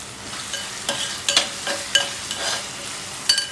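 Onions sauté in a pan with a soft background sizzle, while a spoon scrapes and stirs in sharp intermittent clinks and scrapes, close and fairly loud, about half a dozen distinct strokes.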